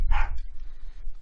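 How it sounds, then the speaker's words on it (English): A household dog lets out a single short bark, fairly close and sharp, then the room settles into a low background rumble with no speech. "Sorry, my dog's barking."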